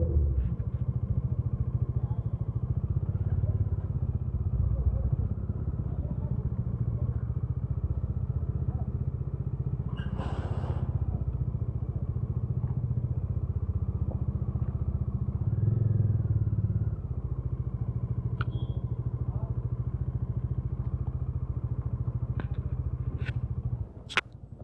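A motorcycle engine drones steadily and close throughout on a bike trip in Arunachal Pradesh, with a brief louder burst and a few faint clicks over the continuous rumble.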